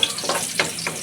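Garlic fries in a hot pan with a loud, close sizzle and two or three quick stirring scrapes in a short burst.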